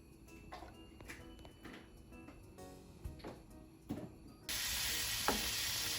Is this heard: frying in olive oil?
yes